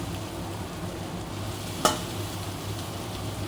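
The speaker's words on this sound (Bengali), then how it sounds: "দিয়ে দিচ্ছি চিংড়ি মাছ" Constant close sizzle of prawns frying in spice paste, with a single sharp clack of a utensil against the pan midway.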